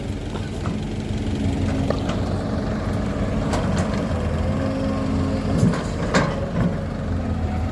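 An excavator's diesel engine runs steadily at a low rumbling idle nearby, with occasional knocks and clanks over the drone.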